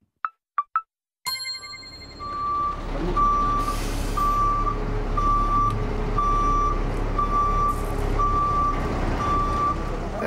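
Heavily loaded trucks manoeuvring near a house, with a steady train of reversing beeps over a deep engine rumble and brief air-brake hisses, preceded by a few short chimes.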